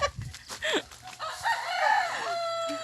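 A native rooster crows nearby, loud and drawn out, with clucking and faint outdoor background noise around it.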